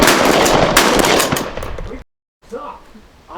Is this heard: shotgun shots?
yes